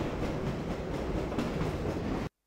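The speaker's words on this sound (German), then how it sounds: "Und das hier ist ein Zug," Steady rumble of a train running in Half-Life: Source, a dense continuous rolling roar with faint clickety rhythm that stays level throughout, then cuts off abruptly near the end.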